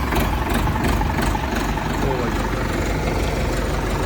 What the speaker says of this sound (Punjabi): ਆਵਾਜ਼ ਕਰੋ ਟਰੈਕਟਰ ਦੀ ਚੈੱਕ